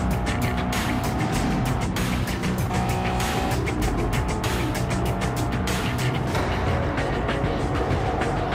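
Race car engines at full throttle in a racing video game: a continuous loud, close engine roar with rapid pulsing and shifting pitch, tires and engine noise layered without pause.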